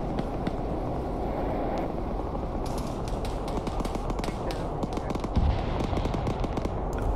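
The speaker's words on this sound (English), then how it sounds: "Can't even tell where those shots are coming from." Gunfire in the military video game Arma 3 crackles as dense, rapid sharp reports from several directions, continuous and loud throughout, with a heavier thump near the end.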